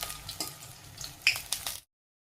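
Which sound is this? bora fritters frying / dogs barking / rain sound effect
bora fritters frying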